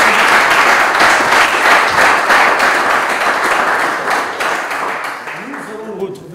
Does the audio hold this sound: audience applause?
yes